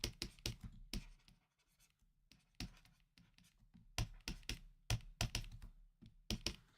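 Bursts of close, quiet pen or chalk strokes and taps as a math proof is written out by hand, separated by short pauses, with no talking.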